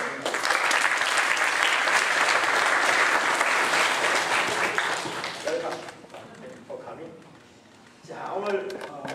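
A church congregation at Sunday service claps loudly and steadily to welcome a visiting missionary, the applause dying away after about five seconds as a voice resumes speaking.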